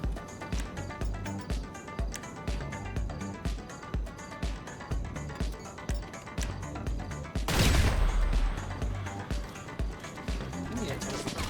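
Gunfire in GTA V Online during a mission, a loud burst of shots and crashes standing out above steady rhythmic game music, with talk around it.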